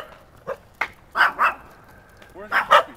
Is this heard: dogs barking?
yes